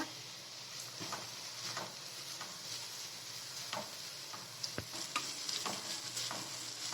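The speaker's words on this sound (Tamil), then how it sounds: "வெங்காயம் நல்லா வதங்கிடுச்சு. இதோட எடுத்து வச்ச தேங்காயை சேர்த்துக்கோங்க. இதையும் நல்லா வதக்கிக்கோங்க." Grated coconut and onions sautéing together in a pan for a peanut chutney: a steady, close sizzle with scraping stirs and light ticking spatula taps throughout.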